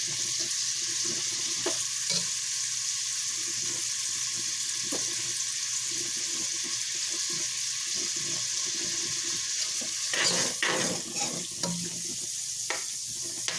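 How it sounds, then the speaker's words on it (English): Cubed bacon sizzles in a pan as it crisps, a steady hiss running throughout, with a few clattering stirs and utensil knocks bunched near the end. "I'm gonna just go ahead and cook my bacon up, let it get nice and crispy."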